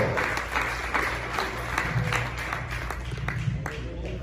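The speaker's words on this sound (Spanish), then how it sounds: "Denle palmas fuertes a nuestro Dios" A church congregation claps loudly in praise, a steady wash of many hands with faint voices and murmurs mixed underneath.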